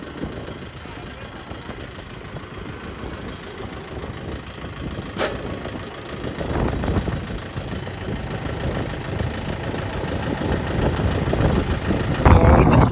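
A tractor engine idles with a steady low rumble and knocking throb, growing slightly louder, while people talk over it.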